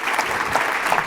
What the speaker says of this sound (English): let's get another round of applause for the difference that Matt